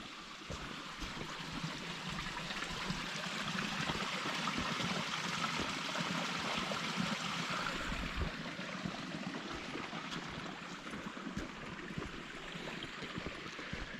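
A small creek beside a forest hiking trail on Cougar Mountain, its water trickling and babbling in a steady, even wash throughout, fairly close and soft, with no voices.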